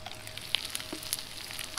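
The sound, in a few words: food frying in butter in a pan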